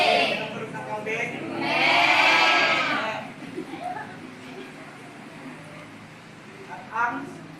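Several children imitate a goat's bleat together in a loud, drawn-out chorus during a classroom lesson, rising and then fading, with a brief second bleat-like call near the end over faint room noise.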